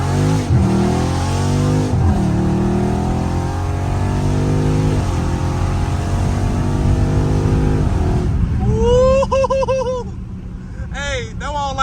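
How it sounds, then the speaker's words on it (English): Scat Pack car driven at full throttle, engine roaring close and loud as revs climb repeatedly with quick, snappy gear shifts, ending in higher-pitched whining tones. "Y'all hear them snappy shifts?"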